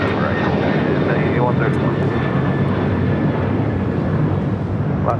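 An airplane takes off from runway 25 right at LAX, its loud continuous engine roar filling the whole stretch while a radio voice briefly speaks over it.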